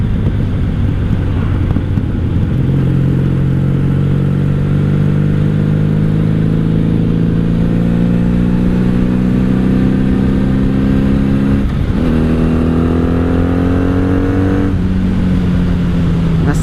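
A wrecked 1997 Honda Magna 750 VF750C cruiser on its first road ride after a new steering repair, its engine droning steadily and rising in pitch through the gears, with a quick shift break midway, under loud wind rush.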